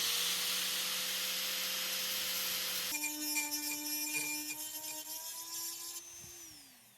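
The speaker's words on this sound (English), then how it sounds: "I'm just gonna get the die grinder out and start grinding on this thing" A die grinder whines steadily at high speed while grinding an aluminum H22 intake manifold, its pitch shifting partway through as it bites into the metal, then winding down at the end.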